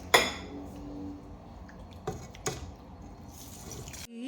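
Sesame oil is poured into a pan, giving a close sharp clink followed by soft dripping and liquid trickles with a couple of small splashes, fairly quiet with no talking.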